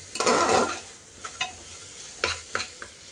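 Spices and lentils stirred and roasted in a pan for masoor pulao, giving a burst of close sizzling and scraping followed by a few short stirring strokes, with no talk.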